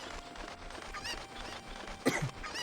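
Chickens cluck in Zelda: Ocarina of Time, a few short squawky calls over a busy game soundtrack, with one sharper, louder squawk near the end.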